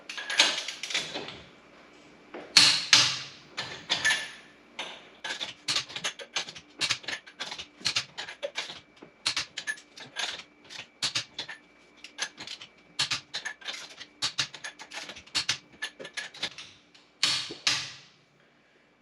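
A hand wrench works the eight lug nuts on a 2003 GMC Sierra wheel in a star pattern, giving a long run of sharp metallic clicks and ratcheting taps in quick bursts, close and fairly quiet, with brief pauses between nuts.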